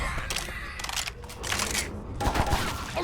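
Rifle gunfire in a co-op zombie shooter set on a construction site, with rapid bursts of sharp shots close and loud in clustered volleys and brief gaps between them.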